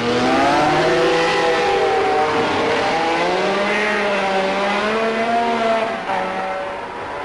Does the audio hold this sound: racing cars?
yes